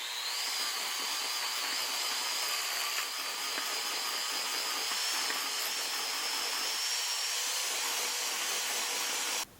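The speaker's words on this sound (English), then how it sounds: "And now we're going to mix it with a hand mixer." Electric hand mixer whirring steadily while mixing a batter with vanilla in a bowl, a continuous close motor whine that runs evenly for several seconds before cutting off abruptly at the end.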